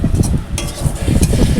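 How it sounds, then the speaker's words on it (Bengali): Pieces of taro and spices are stirred as they fry in a pan, a spatula scraping and clattering over a low, continuous sizzle close by. "দেখতে পাচ্ছি আমি নাড়ছি। এই ভাজাটা ততক্ষণ হবে যতক্ষণ না মশলার সাথে কচুগুলো একটু লাল লাল হয়ে আসছে।"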